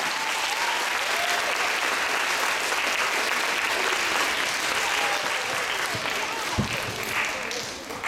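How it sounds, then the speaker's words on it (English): A live jazz audience applauds the pianist from Israel with sustained, dense clapping that holds steady, with one louder thump near the end. "Very, very wonderful round of applause."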